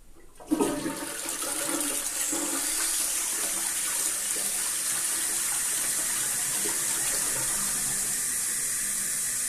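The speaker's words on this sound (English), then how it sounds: "So let's test the flush now." A toilet flushes after its syphon has been repaired: a loud rush of water starts abruptly within the first second, then keeps pouring and gurgling steadily to the end, close by with no talking.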